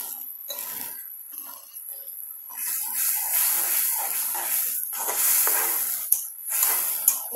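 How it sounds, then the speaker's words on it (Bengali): Turmeric, chili and coriander powder sizzling in a frying pan while being cooked down for a dried loitta fish bhuna, a steady close hiss that swells midway with a couple of sharp pops near the end. "মশলাটা ভালোভাবে নেড়ে কিছুক্ষণ কষিয়ে নেব"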